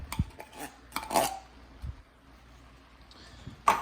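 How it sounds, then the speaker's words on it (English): A spoon stirs rice in a pot for jambalaya, giving a few soft scraping and clinking strokes against the metal at irregular intervals, close and quiet, with pauses between them. "All right, I got that rice mixing in."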